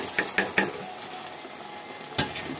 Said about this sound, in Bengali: এবার ভাজা আলুগুলো ঢেলে দেবো।